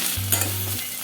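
Curry leaves and onion sauté in a hot pan, giving a short, close burst of sizzling with a faint stir partway through.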